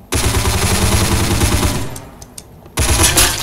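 Sustained automatic fire from an M249 machine gun in the video game Counter Blox, loud and continuous, breaking off briefly with a few scattered shots before another burst resumes.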